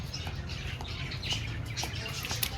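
Pigeons squawking and calling inside a loft during an outbreak of Ranikhet disease, a steady cluster of short close cries with faint wing flutters over a low constant hum.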